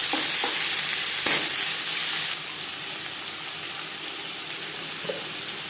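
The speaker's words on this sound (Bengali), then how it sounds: "প্রথমে আমি পান্তা ভাত সার্ভ করার জন্য আলু ভেজে নেব।" Small washed pieces of skin-on potato fry in hot oil, a loud, continuous sizzling hiss close up with a few light clinks early on, the level easing slightly partway through and no voices present.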